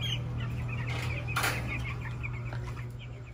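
Backyard broiler chickens cluck and chirp softly in a pen, a busy close chorus of short calls over a low steady hum, with a brief flutter of wings midway.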